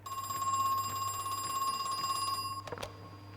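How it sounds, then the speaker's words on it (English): A telephone rings in the video game Crow Country with a steady electronic trilling tone that holds for over two seconds, then cuts off with a click as it is answered. "We'll answer the phone."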